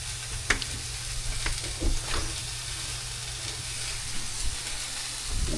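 Ground beef fries in its own grease in a pan, giving a continuous close sizzle and hiss with occasional scrapes and knocks of a wooden spoon stirring it.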